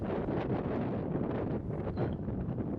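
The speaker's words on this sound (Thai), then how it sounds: "ลองฟังเสียงลม" Strong wind blows steadily across the microphone at a high mountain viewpoint at Pha Taloen, Phu Luang, producing a loud, continuous roaring rumble with no voices.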